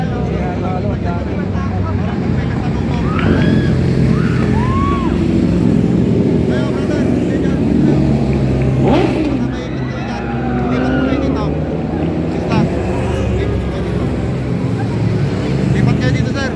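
Motorcycles passing during an Ironman motorcycle challenge event in Infanta, Pangasinan, a steady loud engine roar with swelling pass-bys amid a noisy crowd, with people talking throughout.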